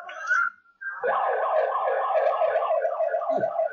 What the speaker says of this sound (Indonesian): Ambulans nih.